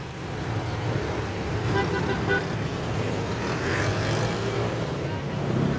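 Dense street traffic in downtown Antipolo rumbles continuously with engine noise, and a few car horns toot faintly through the steady roadway drone.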